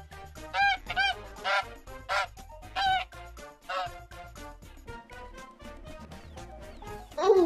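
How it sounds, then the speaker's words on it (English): A series of loud, nasal goose-like honks in quick bursts, some rising in pitch, with other bird calls mixed in and no talking. "Goose."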